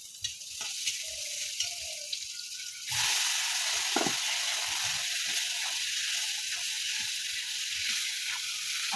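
Black cumin, onion and garlic hitting hot oil in a home kitchen, a steady close sizzle that jumps louder after a few seconds and then holds a dense, crackling hiss.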